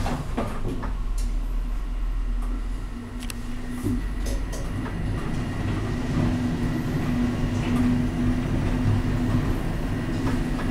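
U-Bahn subway train at Hamburg's Gänsemarkt station, heard as a steady low rumble of rolling rail cars with a sustained mechanical hum and occasional clanks and door-like knocks, continuous and fairly near throughout.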